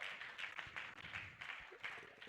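An audience claps for the Vice Chancellor at a university International Women's Day event, a moderate, uneven patter of many hands that swells and eases in pulses, heard from within the crowd.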